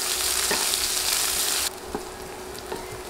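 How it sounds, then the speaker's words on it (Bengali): Two large sliced onions frying and stirred in a pan give a loud, bright sizzle that suddenly quietens partway through, with occasional sharp knocks from the stirring spoon. "এখন দিচ্ছি পেঁয়াজ, 2টা বড় সাইজের পেঁয়াজ স্লাইস করে কেটে দিয়ে দিলাম। নেড়ে পেঁয়াজ নরম হয়ে আসা পর্যন্ত ভেজে নিব।"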